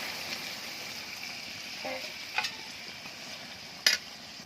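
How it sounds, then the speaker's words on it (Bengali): Meat curry in a pan with a little water being stirred, heard as a quiet low simmer with a couple of soft clinks and scrapes of the utensil. "নেড়ে চেড়ে সামান্য পরিমাণে একটু জল দিয়ে"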